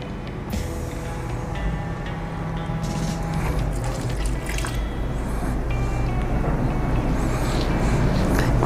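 Water poured from a container into a pot of instant coconut milk and rice for nasi lemak, a continuous splashing, trickling fill that builds gradually and stays close and steady throughout.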